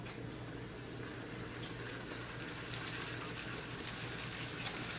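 Quesadillas sizzle as they fry in a pan, a soft, steady hiss with light crackle that grows slightly brighter toward the end, heard close and alone without talk.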